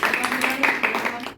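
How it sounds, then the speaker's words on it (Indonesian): Students in a classroom give a short burst of dense, steady clapping, fairly close and moderately loud, fading out at the end. "Oke, berikan tepuk tangan."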